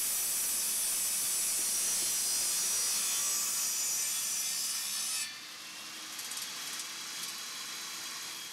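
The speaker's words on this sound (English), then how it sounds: "cut an angle of about 20 degrees in the board you will use to press your cruiser" A wooden board being sawn at a roughly 20-degree angle for a cruiser skateboard kicktail press, a steady close rasping stroke that drops to a quieter, lighter scraping partway through, with no talking.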